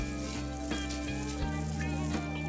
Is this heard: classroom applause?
no